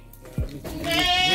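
Goats at a mountain goat house bleat close by, a wavering nasal cry that swells and holds to the end of the short moment.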